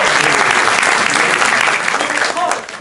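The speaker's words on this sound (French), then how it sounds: "on peut m'applaudir" An audience at an improv theatre festival bursts into loud, dense applause that holds steady and then starts to thin and fade toward the end.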